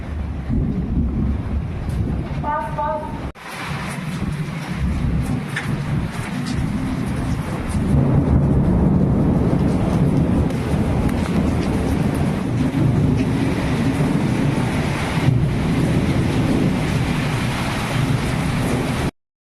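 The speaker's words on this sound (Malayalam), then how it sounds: "കണ്ടോ എന്തൊരു മഴയടിക്കുന്ന, ഭയങ്കര ഇടിയും പൊട്ടുന്ന" Heavy rain roars steadily with gusting wind noise on the microphone, a sharp thunder crack partway through and a deep rumble building, loud and close, during a thunderstorm in Saudi Arabia.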